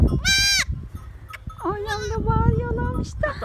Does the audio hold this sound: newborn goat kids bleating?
yes